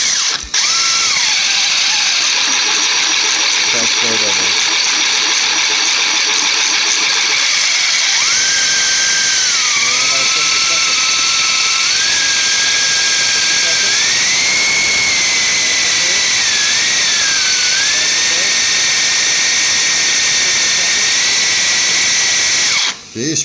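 Steady high-pitched whine of a Yeti XL two-speed RC vehicle's motor and drivetrain running in first gear, loud and close, with the pitch rising and shifting through the run and no talk over it.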